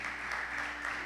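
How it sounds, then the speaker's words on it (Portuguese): A church congregation claps together in steady, dense applause that holds at an even level from start to finish, with no voices above it. "Dê uma salva de palmas para o Senhor."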